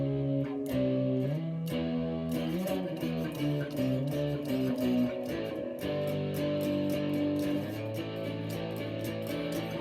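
A left-handed Glarry electric guitar, Burning Fire Sunset model, plays sustained distorted chords and riffs for about ten seconds, thick and buzzing, with no voice over it.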